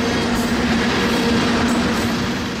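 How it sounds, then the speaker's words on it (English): A loaded CSX ethanol freight train rolls past close by, a loud, steady rumble of wheels and railcars that holds unbroken throughout. "you can imagine how long it would take to get this loaded K427 ethanol train stopped"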